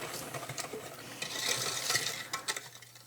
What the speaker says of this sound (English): just keep stirring and helping that sugar dissolve and melt